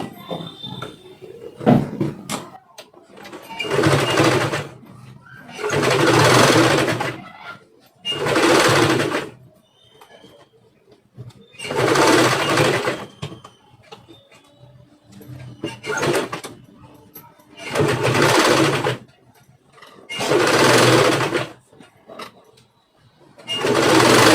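A sewing machine stitches folded extra piping cloth on a boat-neck blouse, running in repeated bursts of about two seconds with short pauses between, loud and close with no talking.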